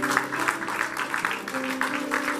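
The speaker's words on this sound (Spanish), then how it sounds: "denle ese aplauso fuerte a Jesús" Church congregation applauds during an evangelical service, a dense wash of clapping over a sustained musical tone, brief and fairly loud.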